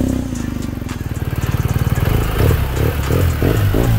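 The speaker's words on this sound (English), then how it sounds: "I'm on the R1250 GS Adventure with its amazing Akrapovich full titanium exhaust." BMW R1250 GS Adventure motorcycle with an Akrapovic full titanium exhaust, its boxer engine burbling with a steady low-pitched pulsing that swells louder midway through, a clattery rumble close by with no talk.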